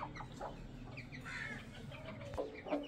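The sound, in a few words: rooster clucking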